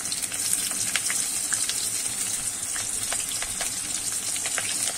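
Steady, close sizzling of chopped onion and garlic frying in oil, with occasional crackles and pops, no voices.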